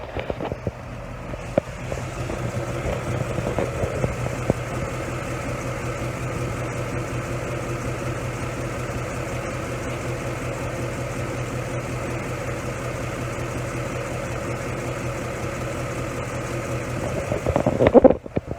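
A warmed-up 2015 Ford Mustang GT Premium with its Coyote V8 idles steadily at close range, a constant low hum with no ticking, rising briefly in level near the end.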